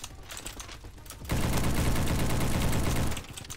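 Rapid automatic Galil rifle fire in the video game Bad Business, a dense burst of about two seconds that jumps in sharply after a quieter opening and then cuts off.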